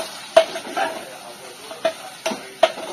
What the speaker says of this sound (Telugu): పచ్చిమిర్చి, అల్లం వెల్లుల్లి ముద్దని వేసేసి ఇంకో 5 నిమిషాలు అయితే మంచిగా ఫ్రై చేసుకుంటున్నాను.